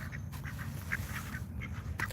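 Ducks quack outdoors several times in short, moderately distant calls over a steady background rumble on a mild day.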